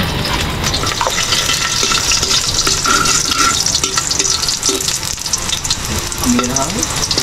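Garlic sizzles and crackles steadily in hot cooking oil in a pan, a loud, continuous frying hiss with occasional stirring scrapes and faint clinks, with no talking over it.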